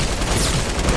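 Rapid gunfire in the Fortnite battle royale video game, a dense, continuous burst of shots lasting about a second, loud and close, with no talking.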